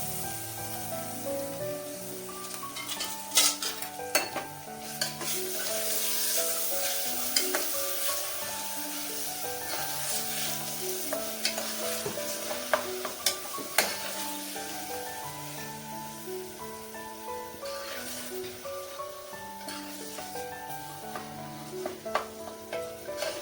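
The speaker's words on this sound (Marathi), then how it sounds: "रंग बदलेपर्यंत आपल्याला त्याला परतून घ्यायचे।" Minced mutton kheema frying on low heat in a pan, with a soft continuous sizzle and frequent clicks and scrapes of stirring, while music plays underneath.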